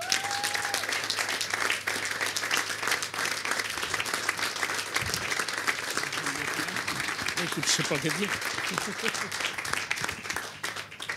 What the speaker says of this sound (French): Je vous demande de l'applaudir parce qu'il le mérite vraiment